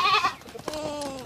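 A goat bleats loudly in a wavering cry, then a second, longer bleat follows after a short pause, clear and close with no talking.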